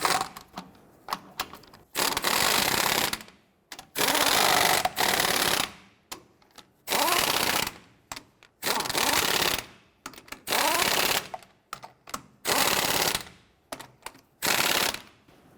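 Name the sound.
power tool snugging down lug nuts on a Nissan Frontier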